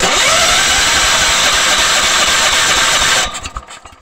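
An old 16-horsepower brush hog engine cranks and sputters loudly for about three seconds, then cuts out abruptly, leaving faint clattering.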